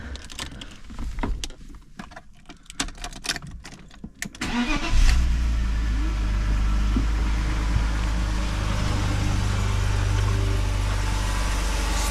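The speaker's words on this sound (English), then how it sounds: "we're gonna do a quick cold start on this Touring." Cold start of a 1997 BMW 320i Touring in a tight, dark collector-car storage space: a short starter crank, then the engine catches around five seconds in and settles into a loud, steady, even idle that continues to the end.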